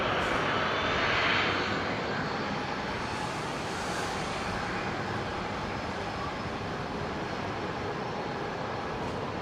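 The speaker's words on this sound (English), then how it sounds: "That's the China Airlines 350 coming in from Taipei." A China Airlines A350 jet lands at Brisbane Airport with a broad, continuous engine roar that swells early and then holds steady at a moderate distance.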